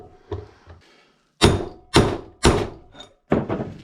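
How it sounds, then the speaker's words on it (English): A wheel bearing race on a 1976 Harley-Davidson FLH is driven into the hub, with a couple of light taps followed by four loud, close, heavy thuds as it bottoms out. "you can hear it make a distinctive thud when these things have bottomed out"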